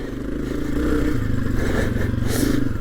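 A 2022 Honda CRF250F air-cooled dirt bike chugs at low revs over rocks on a trail, its engine steady and close, with clattering and scraping from the rocky ground and no speech.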